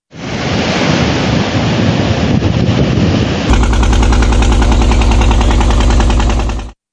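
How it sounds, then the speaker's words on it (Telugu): Cyclone-driven sea waves surge over the Uppada–Kakinada beach road in coastal Andhra as strong wind blows, a loud, continuous roar of surf and gusting air that grows heavier and denser partway through. "ఉప్పాడ కాకినాడ బీచ్ రోడ్డు దాటి అలలు ఎగసిపడ్డాయి"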